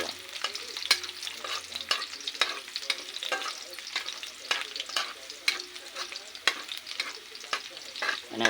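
Garlic sizzles and fries in a pan while being stirred, with repeated scraping clatters of the utensil over a constant crackling hiss, close and alone.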